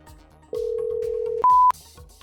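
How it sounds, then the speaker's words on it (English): A telephone rings with a single long tone followed by a shorter, higher beep, loud and close over a faint rhythmic background. "It's ringing."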